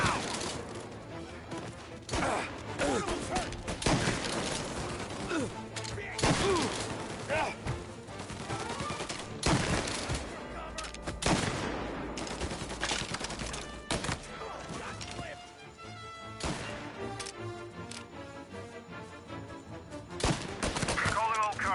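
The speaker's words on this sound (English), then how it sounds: "Reports of gunshots rolling in." Rapid bursts of gunfire in the video game Mafia crack repeatedly amid clashing effects and music, dense and loud throughout.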